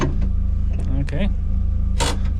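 A car engine idles steadily outdoors after suspension replacement and reassembly, a continuous low rumble with a brief higher whir partway through.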